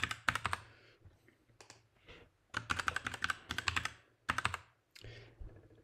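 Several quick bursts of close keystrokes on a computer keyboard as a password is typed while setting up a local admin account on a Palo Alto firewall, with short pauses between runs.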